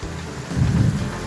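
Rain pours steadily while a low rolling rumble of thunder swells in the middle, close and fairly loud with no voices.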